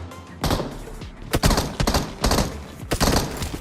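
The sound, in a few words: gunfire in BGMI (PUBG Mobile) video game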